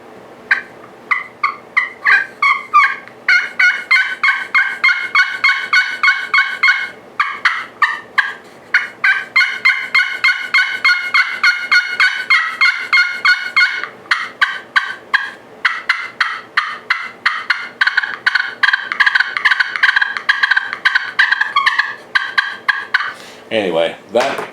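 A pot-style friction turkey call is played with a carbon striker indoors, producing close, loud, rhythmic runs of raspy yelps and clucks in quick repeated series. Brief pauses break the series, and the sequence ends with a low scrape.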